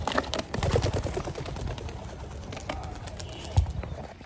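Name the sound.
pigeons released and flying off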